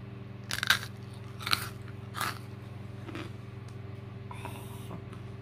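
Crunchy candy bitten and chewed close up, with three or four sharp crunches early on, then softer chewing over a steady low electrical hum.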